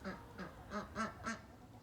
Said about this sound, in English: We have 2 ducks and 4 chickens. You can hear they're very noisy.